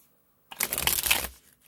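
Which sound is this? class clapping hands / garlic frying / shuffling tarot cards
shuffling tarot cards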